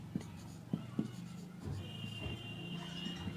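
Chalk or marker scratching on a classroom board during a class 12 maths lesson, a few short taps and strokes, close and quiet, with a voice talking over part of it.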